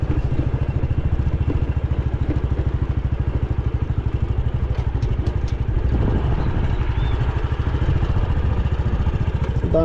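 A motorcycle idles at a stop on a town street near a beach, its engine putting out a steady, loud, close mechanical putter for several seconds with faint clatter, and no one speaking.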